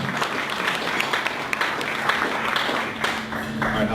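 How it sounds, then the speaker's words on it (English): A crowd applauds with steady, dense clapping that stays fairly even throughout, with a faint murmur beneath it. "let's give our speaker a warm round of applause, Hajj Flemings, and welcome him."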